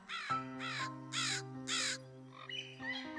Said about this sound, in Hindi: एक ऊंचे पेड़ पर एक कौवा घोंसला बनाकर रहता था।